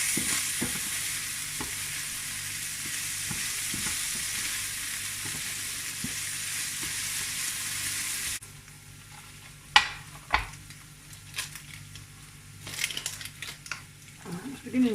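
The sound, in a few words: food frying and sizzling in a pan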